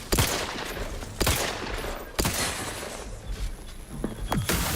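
Sci-fi weapons fire in The Outer Worlds 2 combat: loud, close gunshot bursts crack out roughly once a second, with rapid volleys and echoing tails between them.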